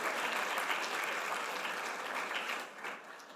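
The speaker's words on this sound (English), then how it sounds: "Give yourselves a big round of applause" Volunteers who have just assembled about a thousand kits applaud themselves: a broad wash of crowd clapping, steady at first and then thinning as it fades toward the end.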